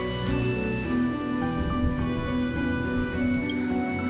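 Steady rainfall on surfaces in the Honkai Star Rail video game, set in Penacony, a constant patter heard alone with faint musical tones over it.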